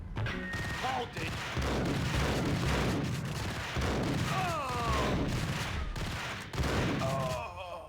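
Repeated gunfire in Max Payne, dense bursts of shots and booms running through the whole stretch at steady loudness, with a voice talking faintly in the mix.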